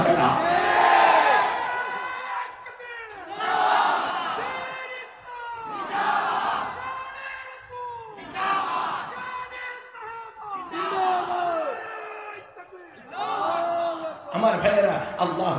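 A crowd at a religious sermon gathering chants the takbir Allahu Akbar in unison, about six loud, rhythmic chanted bursts separated by short pauses.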